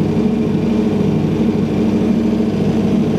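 An Aprilia RSV4 superbike engine idles steadily while warming up, a loud, close, even low rumble with a slightly uneven throb and no revving.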